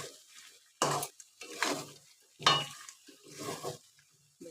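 Red chicken curry made with country rooster being stirred in a pot, a few loud scraping and clattering strokes separated by short pauses, close by with a faint sizzle between them.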